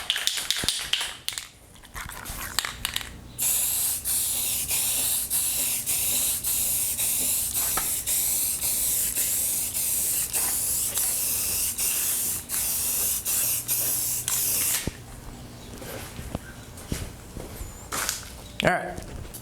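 An aerosol spray can lays a final coat of paint on a part for a 1972 Honda CB450 cafe racer, a loud, steady hiss held for long stretches, then brief shorter spurts near the end.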